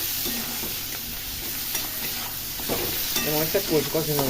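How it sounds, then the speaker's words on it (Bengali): Curry being sautéed in a pan, steady close sizzling with stirring scrapes, and a voice or music briefly rising over it near the end. "কষিয়ে নিই"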